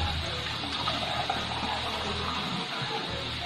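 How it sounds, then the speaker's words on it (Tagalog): Water poured into a pot of Filipino beef kaldereta, a steady broadband splashing gush that runs the whole time, close and fairly loud, without talk. "Lalagyan ko lang po ng tubig para may sabaw-sabaw po."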